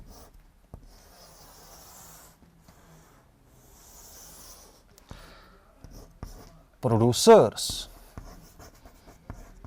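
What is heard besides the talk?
writing on a board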